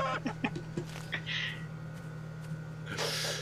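A chicken in the Tree of Life 2 video game gives several short clucks near the start over a steady low electrical hum, with a brief hiss and a louder noisy burst toward the end.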